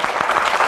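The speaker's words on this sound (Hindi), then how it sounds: "ताली दो" Children clap together in a short, dense burst of applause inside a classroom, steady and fairly loud with no voices over it.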